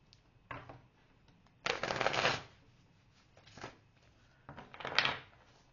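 A tarot card deck is shuffled in several quick riffling bursts, close and crisp, with quieter handling and tapping between the shuffles.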